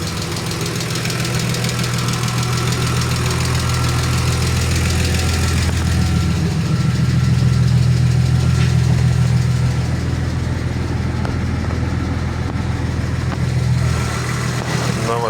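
A BMW E46 coupe diesel engine idles after its first start following a rebuild, a loud steady close rumble with a light ticking from the lash adjusters, running alone for the whole stretch.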